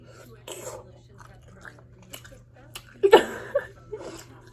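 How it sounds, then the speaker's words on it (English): Chewing and biting into seafood boil: soft, close mouth sounds with a louder bite and crunch near the end, mixed with brief talk and a chuckle. "let me take one more bite before I end this video"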